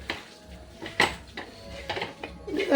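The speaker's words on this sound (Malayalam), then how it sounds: "ചിക്കൻ കൂടി അതിലിട്ട് കൊടുക്കുന്നുണ്ട് കേട്ടോ ഞാൻ അതിട്ടിട്ട് നമുക്ക് നന്നായിട്ട് മിക്സ് ആക്കാം" Chicken pieces stirred with lemon juice in a metal pot for biryani give a series of quiet clinks and scrapes of spoon against pot, spaced irregularly and sitting low.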